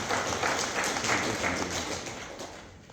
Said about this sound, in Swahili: Naomba tupige makofi tukijipongeza.